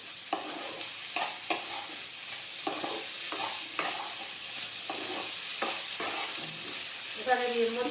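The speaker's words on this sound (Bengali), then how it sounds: "আলু ইঁচড়গুলো মশলার সাথে ভালো মতো কষানো হয়ে গেছে" Potatoes and raw jackfruit frying with spices over a medium flame, a steady bright sizzle broken by repeated scraping stirs of a spatula at an even rhythm, close and alone.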